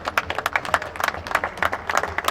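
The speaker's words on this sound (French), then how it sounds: "On peut les applaudir." Applause from a crowd at the finish of the Rallye des Centurions, with scattered distinct claps in an uneven rhythm, fairly close and moderately loud, with no talking over it.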